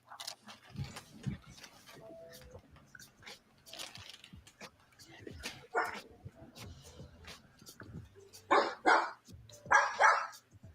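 Dogs bark at a strange car pulling up at an Airbnb, first as scattered low noises, then as several loud, close bursts of barking near the end.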